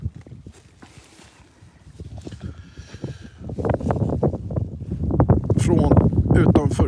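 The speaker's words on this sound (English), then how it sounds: "It's quite windy." Wind rumbles and buffets against the microphone, growing stronger and gustier in the second half, with a person talking over it.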